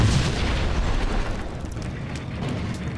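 A container blows up after being shot in the video game Max Payne, a distant explosion heard as a heavy, sustained low rumble that slowly fades over a few seconds.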